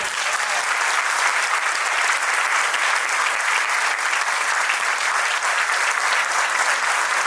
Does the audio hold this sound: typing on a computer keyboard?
no